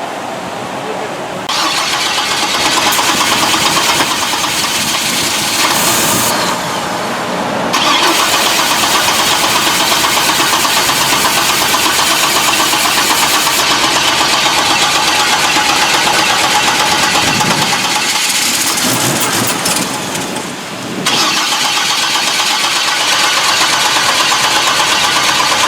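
A swapped Vortec 4200 fuel-injected engine in a Checker Marathon cranks and catches, then settles into a loud, steady idle close by with a few revs, people talking over it.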